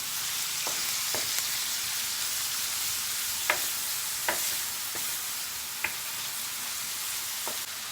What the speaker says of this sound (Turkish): Domateslerimi de karıştırıyorum.